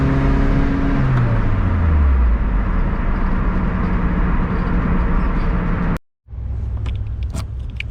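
A Lotus Elise drives just after an oil and spark plug change, its engine droning loudly as the pitch falls through a gear change, then it cuts to near silence and a quieter drone returns.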